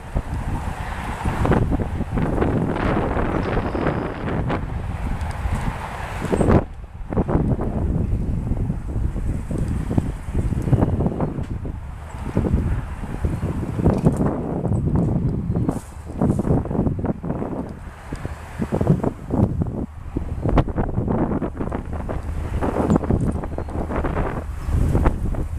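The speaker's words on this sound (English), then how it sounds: "I know it's windy too." Strong gusting wind buffeting a microphone outdoors among reeds at an abandoned truck stop: continuous loud roaring rumble that surges and drops, with no speech.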